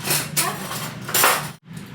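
Plates are set down on a home dining table, giving a few loud ceramic clinks and knocks with brief clatter between them, and no one talks.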